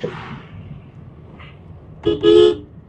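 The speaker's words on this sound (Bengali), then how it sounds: "হর্ন দিয়ে দিলাম" A car horn honks twice near the end, a short toot and then a longer blast, over a low engine rumble, on a winding mountain road with sharp bends in Kanyam, Nepal.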